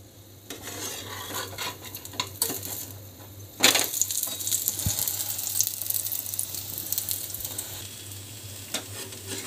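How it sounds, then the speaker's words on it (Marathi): Besan pola batter frying in oil on a pan over medium heat after being flipped, a soft steady sizzle with scraping and clinks of a spatula against the pan, a sharper clatter partway through. "थोडंसं वरून तेल टाकायचं आणि पलटी करून घ्यायचं आपल्याला"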